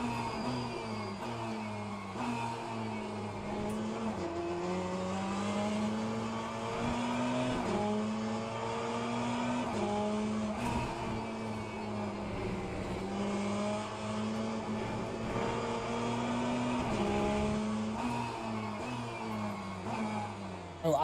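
Ferrari race car engine in Le Mans Ultimate, a steady high-pitched howl rising and falling through gear changes and revs, sustained and loud throughout with no talk.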